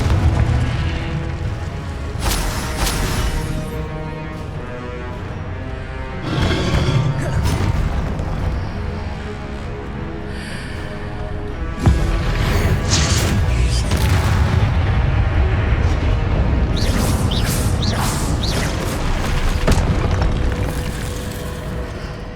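Confringo fire spells detonate in the Hogwarts Legacy video game, a string of loud booming explosions and crackling bursts that roll into one another over a dense, continuous layer of game sound.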